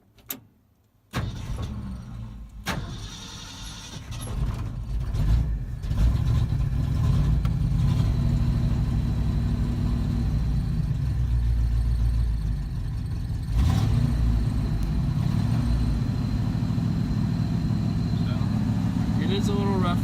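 A 1972 Ford F100 with Flowmaster Super 10 mufflers starts with a sharp crank, then settles into a loud, steady, rough-sounding engine rumble with a few swells in revs, close by, with no one talking over it.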